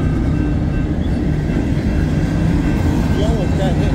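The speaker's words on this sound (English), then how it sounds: "Oh, there's the end of the train." A train rolls past with a steady, loud low rumble of railcars throughout, its tail end going by, while people talk over it.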